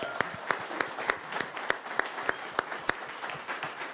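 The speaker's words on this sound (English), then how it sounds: "let's give him a round of applause" A keynote audience claps after a speaker praises someone working in nonprofit. Sparse, individually distinct handclaps land in a loose rhythm, a smaller crowd clapping at moderate volume.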